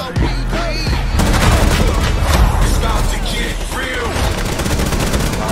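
Rapid gunfire bursts and booming impacts from the Rainbow Six Siege video game crackle loudly and close, dense overlapping shots with a few sharp transients throughout.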